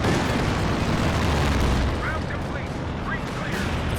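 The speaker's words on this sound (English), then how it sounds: "The frag bombs." Frag bomb explosions in Company of Heroes 2 during a 4v4 match, a dense rumbling barrage of booms and bursts that fills the whole stretch and eases slightly toward the end.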